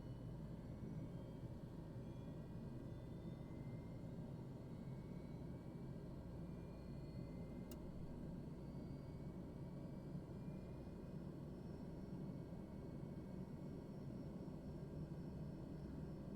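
Aircraft engine spooling up in Microsoft Flight Simulator, a steady droning roar with a rising whine, heard alone and continuous with a single brief chime.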